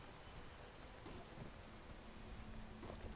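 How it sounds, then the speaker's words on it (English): Steady hiss of rain falling in a video game, a constant even wash with no distinct drops, moderately quiet and alone without talk. "Oh no, it's raining."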